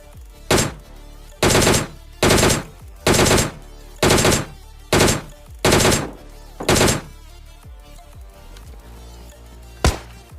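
Tommy gun fire in an online shooter game, heard as about eight loud, rapid automatic bursts in quick succession, followed by a pause and one final short burst.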